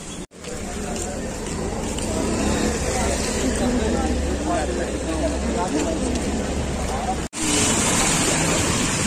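Heavy rain pours down steadily in Kanpur, a dense, loud hiss that continues without a break, interrupted only by two brief cuts.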